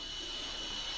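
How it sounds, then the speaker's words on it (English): Vacuum cleaner running somewhere off, a faint, steady high-pitched whirring hum that continues unchanged throughout. "I hear a vacuum cleaner."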